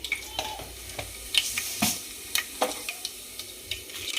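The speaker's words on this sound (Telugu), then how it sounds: "ఆయిల్ మంచిగా హీట్ అయ్యాక ఆవాలు, జీలకర్ర అన్నీ వేసేసుకోవాలి ఒక్కొక్కటి." Mustard seeds and cumin in hot oil: a soft continuous sizzle under sharp, irregular pops and crackles, close by, with clicks of a utensil against the pan.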